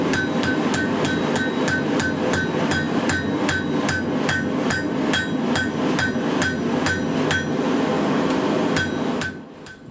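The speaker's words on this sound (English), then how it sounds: "the weld is gently set with a few taps of the hammer" Steady hammer taps on a forge weld setting blue steel for a sushi knife, about eighteen evenly spaced metallic strikes ringing clearly and loudly over a roaring forge background, stopping abruptly near the end.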